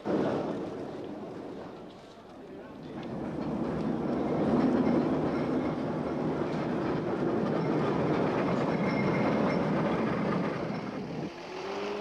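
A 1930s Brighton tram rumbles steadily along its rails, a continuous rolling drone with faint clattering, fairly close and unbroken by speech.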